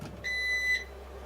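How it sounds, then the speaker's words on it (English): An Emeril Lagasse 26-quart extra large air fryer beeps at the end of its cooking cycle, giving one clear, steady electronic tone about half a second long that stands alone against a faint background hum. "We are officially beeping after our 16 minutes, first 10 and then an additional 6."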